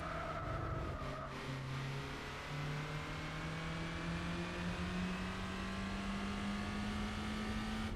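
Race cars, a Toyota AE86 and a naturally aspirated MR2, in the Gran Turismo 4 video game, with steady engine drone and slowly rising whining pitch as the cars accelerate together, heard loud and continuous without talk.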